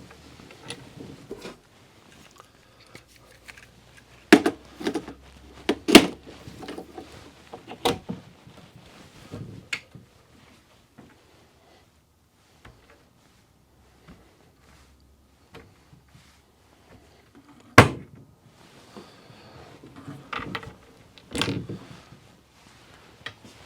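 A Blum Aventos HK-XS lift mechanism is fitted to a cabinet door, with scattered sharp clicks, knocks and handling noises at irregular intervals, fairly close against quiet background.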